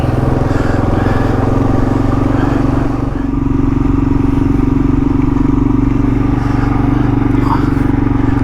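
A Kawasaki KLR 650 motorcycle engine drones steadily at around 4,000 rpm at 100 km/h on a Tasmanian highway, a loud, constant close rumble with wind roar and no breaks.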